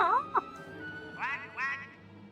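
Several nasal duck quacks from a bird-call gadget in the Sly Cooper: Honor Among Thieves video game, a couple of quick quacks then two longer raspy ones, moderately loud over a low game hum.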